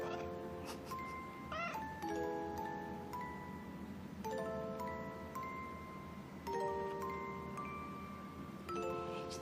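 A cat meows in reply several times, drawn-out calls spaced across the stretch, close and clear over a steady background hum, with no talking.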